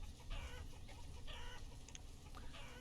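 Chickens in the Banished city-builder game cluck in short repeated bursts over a low ambient background, moderately loud with no talk.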